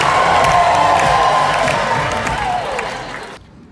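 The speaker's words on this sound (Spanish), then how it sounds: "hasta se dan palmas en los anuncios de L'Oréal" A festival crowd at the Toronto International Film Festival claps and cheers during a L'Oréal ad in a cinema, a loud, dense roar that tapers off and cuts abruptly.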